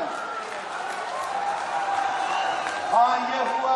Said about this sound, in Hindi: ताली बजा के बताओ ना